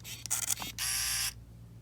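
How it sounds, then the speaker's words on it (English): A Ricoh GR1 film camera fires its shutter with short mechanical clicks, followed by a brief whirring burst of the film-advance motor, close up and quiet against a faint hum. "give you guys a little bit of the shutter, how she sounds"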